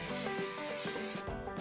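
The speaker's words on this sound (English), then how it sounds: "I use 3M77, and I spray the pattern on the back." A can of 3M 77 spray adhesive hisses in a brief steady burst as it coats the back of a paper pattern in a woodworking shop, ending abruptly.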